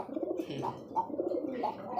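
A male Rajgolla pigeon coos close by, a soft low repeated bubbling call running through two seconds.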